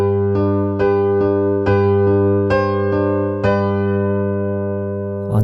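A piano plays the last part of the pre-chorus of a song as a handful of struck chords with ringing sustain, each one left to decay before the next, close and clear, with no voices.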